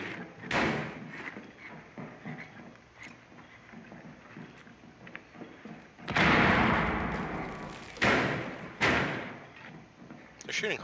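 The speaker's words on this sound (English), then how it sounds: "They're shooting holes in the floor?" Gunfire punches through a floor in Rainbow Six Siege, with a few heavy thuds and a longer burst of cracking impacts, amid quieter background rumble and people talking.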